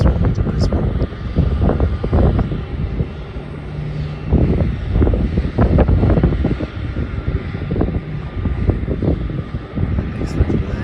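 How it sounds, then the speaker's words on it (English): A Virgin Australia airliner at Melbourne Airport rumbles with a loud, steady jet roar and wind buffeting, under a voice commentating. "the Virgin Australia flight will be taking east-west runway to Brisbane."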